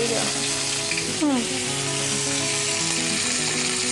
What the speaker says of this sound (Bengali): আমরা কারি পাতা আর মেথিটা ফোড়ন দিচ্ছি